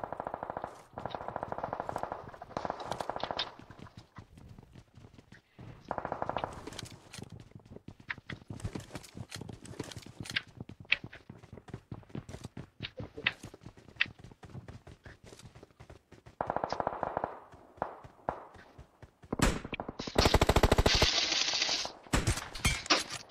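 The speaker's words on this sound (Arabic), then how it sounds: "ارمي عليه ماركه طيب" Rapid automatic gunfire in a multiplayer shooter video game comes in dense rattling bursts with scattered single shots between them, moderately loud, with a final heavy burst near the end.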